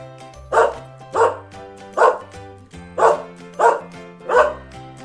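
A dog barks six times in an even, bouncy rhythm, bright and eager, close by over soft background music.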